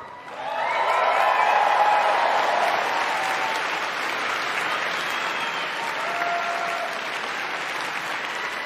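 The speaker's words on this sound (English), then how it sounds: "then everybody clapping" A large convention crowd at a Star Wars fan gathering breaks into loud, sustained applause that swells quickly and holds steady for several seconds.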